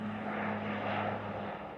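An airplane sits on an airport tarmac after flying in for an onward journey to London, giving a continuous low engine drone with a steady tonal hum, moderately quiet, and no talk.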